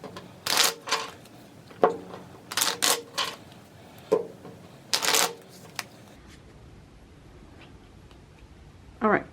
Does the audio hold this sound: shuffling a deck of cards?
yes